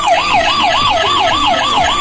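Toy police patrol car siren, a loud, close electronic wail that rises and falls in a fast, regular cycle about four times a second. It plays alone without voices.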